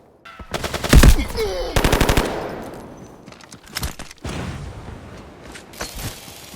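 Bursts of automatic gunfire in the mobile shooter Delta Force Mobile, loud rapid volleys up front followed by scattered single shots and shorter bursts further off.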